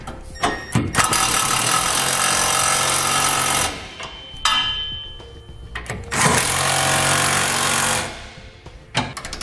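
Power tool with a 19mm socket snugging trailer hitch bolts on a 2018 Nissan, two long loud buzzing bursts of several seconds each, close by, with short pauses and clanks between them.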